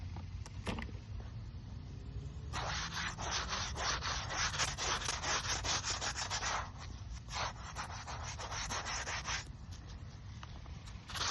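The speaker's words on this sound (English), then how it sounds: "I'm going to take a toothbrush to the words and put some more soap on it, and go from here and give it another scrub and a rinse" A gravestone of a former Rough Rider and Oklahoma governor in a memorial park being scrubbed with soap and a toothbrush, rapid close bristle strokes in long continuous bursts with short pauses, no speech.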